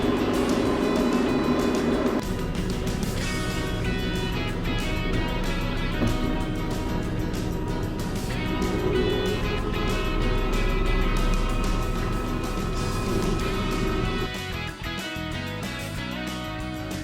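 A tractor cruises along a road at a steady 18 mph, its engine a continuous loud drone with mechanical rattle throughout and a brief dip near the end.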